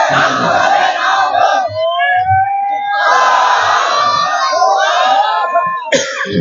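A large crowd at a religious gathering roars a loud, sustained takbir chant in response, voices surging together in long swelling shouts that briefly drop and rise again.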